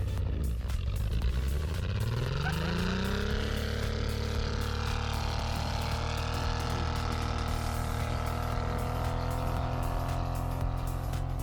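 A Mule utility vehicle engine revs up sharply and holds a loud, steady roar with rattling and clatter as it spins in donuts.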